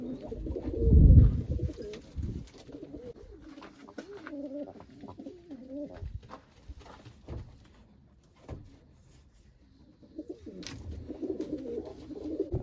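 White tumbler pigeons coo in a coop, soft repeated rolling calls with a brief loud rustle near the start and faint background noises between.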